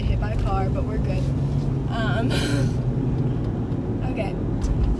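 A car on the road passes close by as a loud continuous engine and tire rumble under nearby talking voices.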